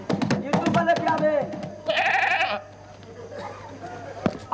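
Sheep bleat repeatedly, close and loud, with a person talking over and between the calls.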